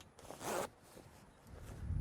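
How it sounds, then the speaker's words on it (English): A zipper pulls closed along the fabric of a Paddle King boat bimini top, giving one quick, close rasp followed by softer rustling and handling. "but we'll just go ahead and zip it up."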